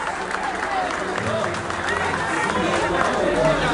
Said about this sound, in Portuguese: Companheiro Camilo Vanucci, peço uma salva de palmas para esse companheiro que escreveu essa biografia maravilhosa para nós.